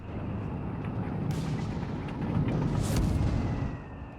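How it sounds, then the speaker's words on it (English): Mortar fire in the video game Company of Heroes 3 rumbles as low, muffled booms amid a continuous battle din, swelling louder toward the end. "finally got the mortar back in action"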